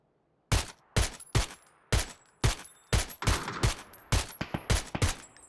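Rapid game gunfire between two teams: a string of sharp, loud shots, first spaced about half a second apart, then tightening into quicker irregular bursts, heard alone with no talk.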